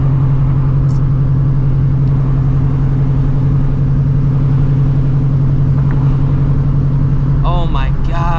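Cars rumble along a road at night, heard from inside a supercharged Shelby GT350 whose engine drones loud and steady throughout.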